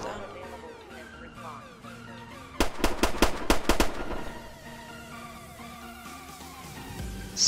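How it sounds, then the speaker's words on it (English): Gunshots in the Roblox game Victor Valley during a military police crate transport, a quick burst of about seven sharp cracks in rapid succession amid quieter game ambience, with no talk over them. "I hear shots fired. Yep, that's shot fired."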